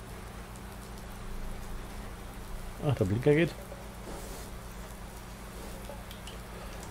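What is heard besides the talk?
rainy weather in the video game Irgendwo in Thüringen 2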